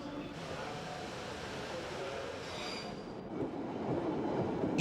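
A London Underground electric tube train runs with a steady rumble and rail noise, growing slightly louder toward the end, under a voice narrating.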